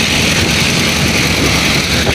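A machine's engine runs loud and steady at close range, a dense continuous rumble with a broad, noisy roar that never lets up.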